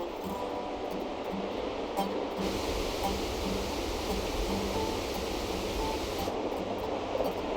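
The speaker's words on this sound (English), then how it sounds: "The deafening roar of the waterfall can be heard 50 kilometers away" Victoria Falls, the world's largest waterfall, sends up a constant, dense roar of crashing water, an unbroken wash of noise with no pauses or voices.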